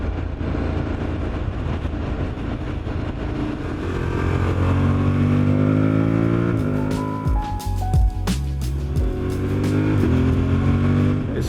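Traffic heard while riding along a road, with steady engine and road rumble throughout and passing vehicles whose pitch rises and falls, plus wind buffeting and a few sharp knocks late on.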